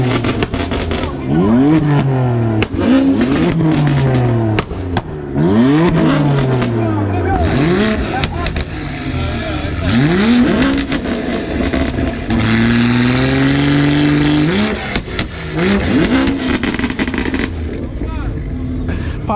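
BMW and Mopar cars at an exotic car meet revving hard while doing donuts and burnouts, loud engine wails rising and falling in repeated sweeps with exhaust pops and crowd noise and voices mixed in.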